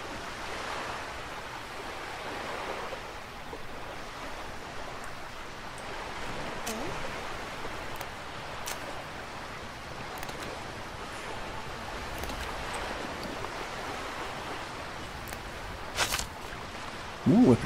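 Loud flowing water in the video game Archlord 2 makes a steady, even rush of noise that runs unbroken throughout, with a couple of faint clicks near the end.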